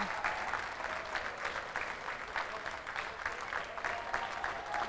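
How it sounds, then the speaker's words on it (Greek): Spectators at a youth football cup final in Agia Paraskevi applaud from the stands, a steady, moderately distant patter of many hands clapping throughout, with no voices on top. "Και το χειροκρότημα των ανθρώπων εδώ που βρίσκονται στο γήπεδο."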